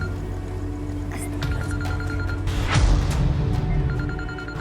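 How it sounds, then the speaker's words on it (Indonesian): A mobile phone rings over a busy background, its repeated electronic tone pulses audible throughout, moderately loud, with a swelling whoosh near the middle. "Kok ada suara handphone sih, Kak?"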